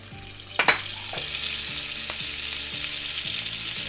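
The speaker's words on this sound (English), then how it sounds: "That's gonna sizzle." Butter hissing and sizzling steadily in a hot cast iron pan, with a few clanks of metal on metal near the start and a softer tap later.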